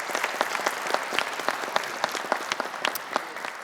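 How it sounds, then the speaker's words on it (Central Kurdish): Applause from university participants in a studio audience, a moderate crowd clapping with distinct individual claps audible, steady and fairly close, with no speech over it. "ئەرێ چەپڵەیەک بۆ خۆتان"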